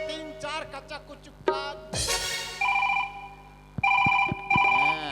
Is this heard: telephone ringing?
yes